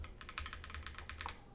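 Quick, crisp keystrokes on a Mode Tempo mechanical keyboard, a rapid run of a dozen or so clacks heard up close and fairly quiet, with no talking.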